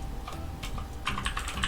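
Keyboard typing, a few scattered keystrokes at first, then a quicker burst of clicky taps, close by with a low background hum.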